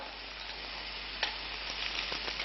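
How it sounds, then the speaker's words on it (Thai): Stink beans (sataw) stir-frying in a hot pan, giving a steady, even hiss of sizzling oil with a few faint scrapes and taps of a spatula; close but fairly quiet, no voices. "หัดให้สตอสุก มันจะได้ไม่เหม็นเขียว"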